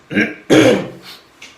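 A person clears their throat in a few rough, gravelly bursts, the second loudest, then trailing off into quieter huffs.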